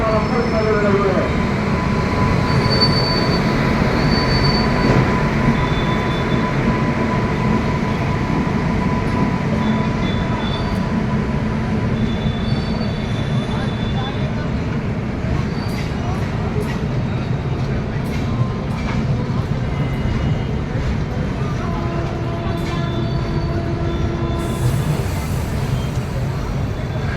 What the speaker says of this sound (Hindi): नई दिल्ली को जाने वाली पूर्वा एक्सप्रेस एक नंबर प्लेटफॉर्म पर कर रही है।